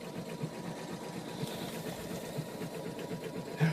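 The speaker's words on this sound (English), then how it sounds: "right now I'm stitching out Claire's photo." An embroidery sewing machine stitches out a photo design for a quilt, producing a steady, fast mechanical whirr and needle chatter that runs continuously at close range, with no talking.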